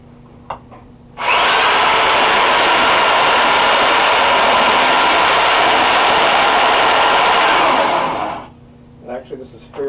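A core drill bores through material on a drilling jig, starting abruptly after a quiet moment and running loud and steady with a broad, high whine for about seven seconds before spinning down, with brief faint noises afterward.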